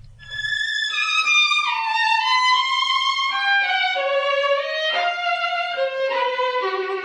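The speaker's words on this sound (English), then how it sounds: "Christian Tetzlaff is rehearsing Bartók's Violin Concerto No." A modern German violin plays a passage from Bartók's Violin Concerto No. 2 at a rehearsal in a London hall. The solo line sounds clear, sustained and singing, with gliding, descending phrases and no talk over it.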